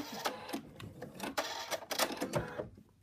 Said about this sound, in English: And on to the next stitch out placement line for the last leg, the second leg.